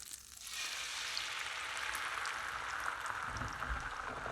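Eggs added to melted butter in a pan at fairly low heat give off a steady, soft sizzle and crackle that starts up quickly and holds evenly throughout.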